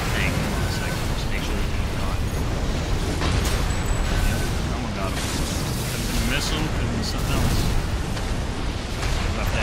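Missile explosions from the mech video game Armored Core 6 during a PvP match: a dense, continuous barrage of booming bursts and rumbling blasts with crackling debris, loud and sustained throughout.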